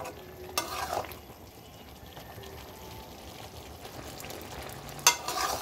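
Bottle gourd sizzles steadily in a pan as it is stir-fried for a fish curry, with a soft continuous frying hiss, a few sharp scrapes and clinks of the spatula, no talking.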